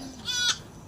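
A goat gives a single short bleat of about a quarter second, fairly close and loud, over quiet farmyard background.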